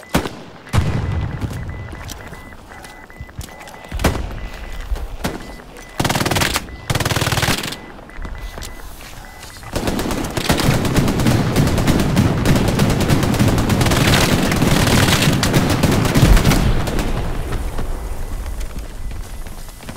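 Machine gun fire rattles through a multiplayer shooter match, with short bursts and single shots early on, then a long sustained stretch of heavy, continuous automatic fire and battlefield noise.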